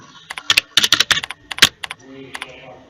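Quick, close key presses on a computer keyboard as an answer is typed into a form, a cluster of sharp clicks in an uneven rhythm followed by a couple of lighter taps.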